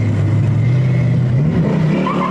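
A green toy car rolls along nonstop, giving a loud, steady motor-like whir with a slowly rising pitch and no talking.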